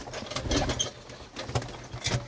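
Soft pigeon cooing with rustling and fluttering bursts, several short calls repeating over a low background hum, fairly close, on a rooftop.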